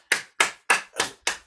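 Quiet hand claps imitating approaching storm rain in body percussion, five crisp, evenly spaced claps close by with no talking.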